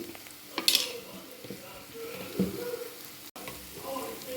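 Spice powders, coriander and Kashmiri chilli among them, fry in a pan for a fish curry, giving a soft low sizzle with occasional scrapes and stirs. Faint talk may sit in the background.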